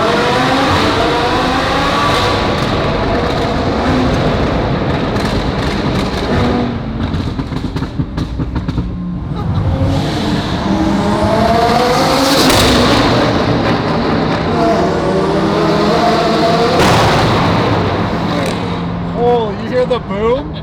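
Twin turbo Lamborghini flyby in a tunnel, loud revving exhaust swelling and fading in passes with sharp pops and booms, voices talking over the roar.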